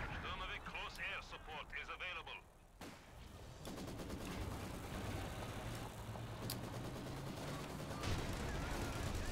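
Heavy gunfire pours onto a Vickers machine gun position in a WWII-style strategy game, with dense bursts and impacts running continuously beneath a commentator's voice, dipping briefly before surging back in.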